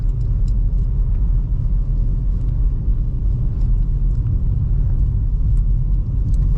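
A 2005 Toyota Highlander pulls away in second gear, giving a loud, steady low engine rumble with road noise that holds at an even level throughout, with no talking.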